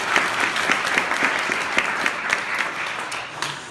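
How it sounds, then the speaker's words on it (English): Audience at a city State of the City event applauding a finance director, steady dense clapping throughout, moderately loud and without talk over it. "let's give a big round of applause for our Finance Director, Thomas Marson"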